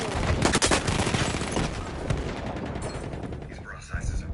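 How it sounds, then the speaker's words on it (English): Rapid machine-gun fire from a shooter video game rattles in dense bursts with scattered single shots. A voice speaks over the gunfire, which thins out near the end. "Machine gun."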